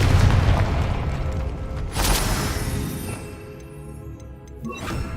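A Confringo blasting spell goes off in Hogwarts Legacy, a deep loud boom that rolls and fades, a second burst cracking out about two seconds in and a smaller hit near the end.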